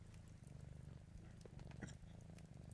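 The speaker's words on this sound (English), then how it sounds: "You made it purr, Smile. Do you hear that? It was purring." A cat in the game Vintage Story purrs softly and faintly in a low, steady rhythmic rumble, heard alone without any talk.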